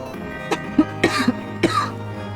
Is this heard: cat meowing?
no